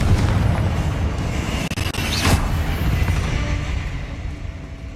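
A Confringo fire spell detonates in the Hogwarts Legacy video game, a dense booming blast with a sharp crack partway through, rolling into a sustained rumble that fills the whole stretch.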